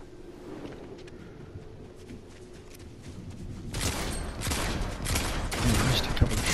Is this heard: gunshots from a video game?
yes